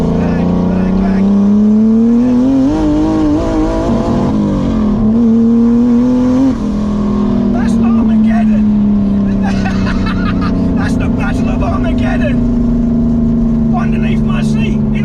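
Turbocharged 500 WHP E30 with an S50 engine swap, running E85, roars steadily and loudly at close range with rising and falling revs. Crackling exhaust pops come through toward the end, and voices speak over the engine in places.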